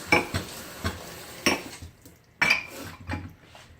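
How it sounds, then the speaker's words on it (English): A dirty porcelain thrift-store Christmas ornament rinsed in hot soapy water, giving splashing sloshes and clinks against a basin in short, irregular bursts, close and fairly loud. "Give this a rinse"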